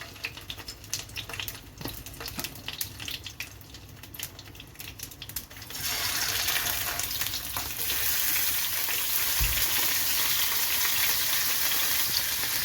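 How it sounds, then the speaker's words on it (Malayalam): Pre-cooked chicken fries in oil in a pan for Arabian majboos. Scattered clatter comes first, then a loud, continuous sizzle surges up midway and holds steady to the end. "നമ്മൾ നേരത്തെ വേവിച്ച് വെച്ചിരുന്ന ചിക്കൻ ഉണ്ടല്ലോ, അത് നമുക്കിനി ഇതിലേക്ക് വെച്ച് കൊടുക്കാം. നമുക്കിതൊന്ന് ഫ്രൈ ചെയ്തെടുക്കണം."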